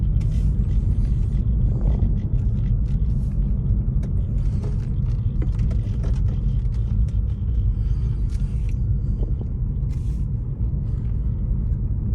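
Steady low road rumble and tire noise inside a 2015 Lexus CT200H F-Sport hybrid on a test drive, continuous and fairly quiet with faint clicks and small bumps, no talking.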